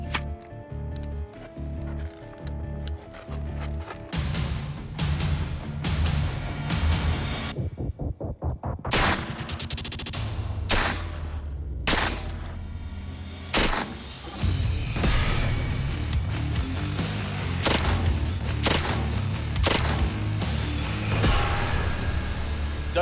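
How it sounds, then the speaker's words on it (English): A full-auto open bolt gun fires at a backhoe scoop in long rapid bursts of sharp, loud shots, broken by pauses and ringing impacts. "he continues to shoot full auto at the scoop. So that's what we're going to try to simulate right now."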